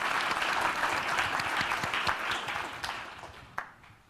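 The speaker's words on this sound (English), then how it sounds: "Please, everybody, give them a hand of applause." An audience applauds at the close of a C++ compiler conference session: dense, steady clapping from many hands that gradually thins and fades, with one sharper clap standing out near the end.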